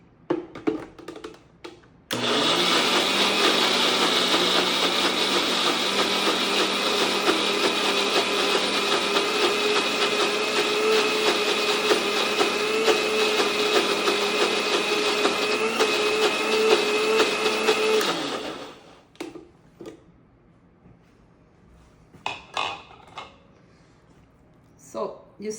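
A blender grinds coconut milk and butter into appam batter with a loud, steady whirring whine that runs for about sixteen seconds, then cuts off. Brief speech and small clatters follow.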